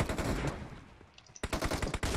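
Rapid automatic gunfire bursts in PUBG Mobile, with a loud volley at the start, a brief lull, then another fast close burst of shots, and nobody talks.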